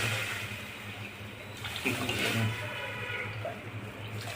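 Water poured into a cooking pan while making rava and sweet corn upma, a steady, even rush of liquid running the whole time at moderate volume with no talking.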